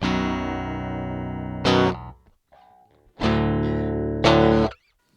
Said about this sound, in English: It's a 30-inch baritone guitar.